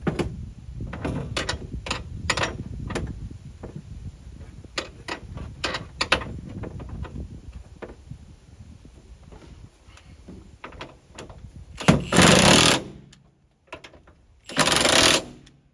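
A wrench tightens a fitting during a cab mate install, giving a close run of irregular metallic clicks and ratcheting strokes, followed by two louder, harsher bursts near the end.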